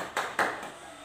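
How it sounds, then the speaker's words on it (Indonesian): Two sharp hand claps in a classroom, close and quick, each fading fast within a second. "Tepuk tangan, kasih tepuk tangan."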